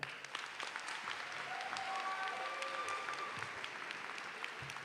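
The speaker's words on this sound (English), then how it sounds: "Please give a big round of applause and welcome our Superintendent of Schools, Dr. Mark Bedell." Applause rises from the crowd at a high school commencement, a steady, even wash of many hands clapping at moderate distance with a few brief whistles over it.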